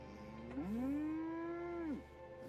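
A cow in the video game Fallout 76 gives a single long, drawn-out moo that rises and then falls away at the end, heard alone at moderate volume.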